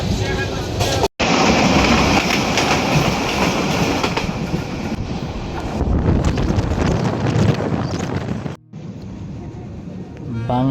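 Kishoreganj Express passenger train running on a Bangladeshi line between Narsingdi and Kishoreganj, a loud continuous roar of wheels and carriage rumble with wind buffeting, clickety-clack on the rails and two brief dropouts.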